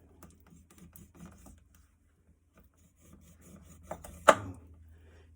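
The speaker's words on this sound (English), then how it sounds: "Cut around the little edges like this here." A knife cuts and scrapes around a chicken drumstick bone, making faint, close scraping and tapping sounds, ending in a sharper, louder scrape.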